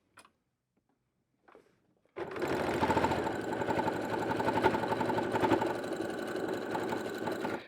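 A sewing machine stitches along a zipper on a bag made from a dish mat, starting after two small clicks and then running in a steady, loud mechanical whirr for about five seconds.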